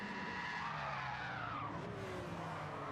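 A BMW M3 '03 slides around Catalunya in Gran Turismo, its tyres skidding under the handbrake in a steady, loud screech with engine drone beneath, sustained throughout without pause.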